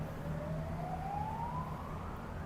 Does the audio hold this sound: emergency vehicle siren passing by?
yes